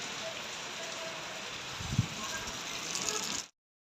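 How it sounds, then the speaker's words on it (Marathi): Heavy monsoon rain pours down in a steady, dense, loud hiss close by, with a single thump partway through before it cuts off. "भयंकर पाऊस येत आहे"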